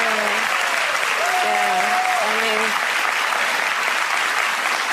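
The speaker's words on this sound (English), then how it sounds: "Thank you for clapping." A crowd claps loudly and continuously, dense applause filling the room while a voice speaks briefly over it near the start.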